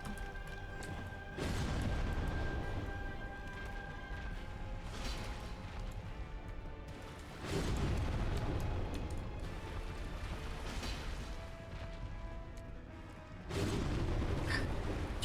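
Boss explosion attacks in a video game, three heavy booming bursts at roughly six-second intervals, each a loud broadband blast that lingers under a steady din of game music and effects.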